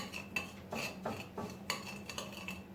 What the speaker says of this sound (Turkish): Şimdi iki kaşık da şekerimizi portakal ve limon kabuklarımıza katıp güzelce rengi, tadı, kokusu çıkana kadar biraz ezeceğiz kaşığımızın arkasıyla